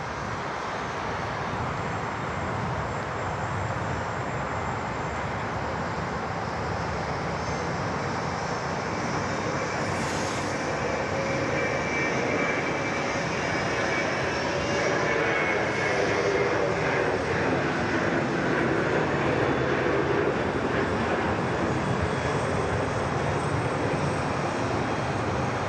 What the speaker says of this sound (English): Very nice departure there. Always love getting plenty of 717 action